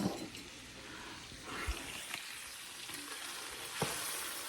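Loose meat for sandwiches fries in a pan with a steady close sizzle, broken by a few soft knocks and scrapes as it is stirred.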